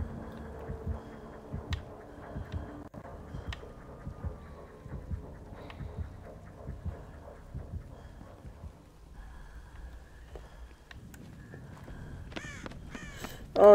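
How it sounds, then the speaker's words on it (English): A crow caws repeatedly in the video game Dead by Daylight, several harsh calls over a dark ambient game soundscape, fairly close and clear. "of course I have to run into a bird"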